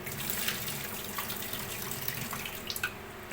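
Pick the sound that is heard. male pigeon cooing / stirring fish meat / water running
water running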